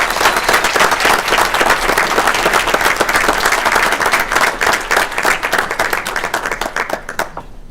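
Applause for students at a school board meeting, a dense, loud burst of clapping from a room full of people that holds steady for several seconds, then thins out and stops abruptly.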